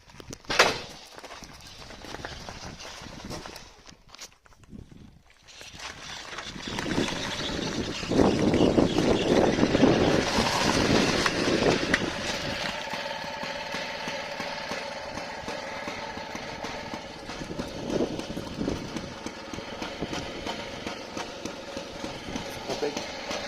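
Moped engine starting up, then idling steadily with a rough, sustained motor drone that stays fairly loud and close for most of the stretch, with a few bumps and handling noises early on.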